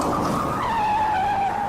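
A car speeding in at full speed skids, its tires letting out a loud, sustained squeal that slides slightly downward in pitch over a roaring engine.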